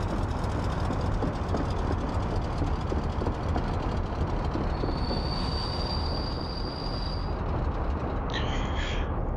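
A train in the video game Workers & Resources: Soviet Republic rumbles past steadily under a constant mechanical drone, with a high whine rising midway and a brief squeal near the end.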